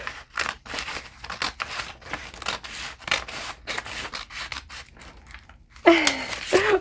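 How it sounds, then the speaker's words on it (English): Scissors cut a sewing pattern along a drawn line in a rapid series of short, close snips and crunching slices of paper. A brief louder rustle follows near the end. "It's awkward to cut this way."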